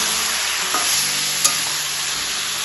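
Cabbage stir-fries in a pan while its released water cooks off, giving a steady close sizzle with a few light stirring knocks.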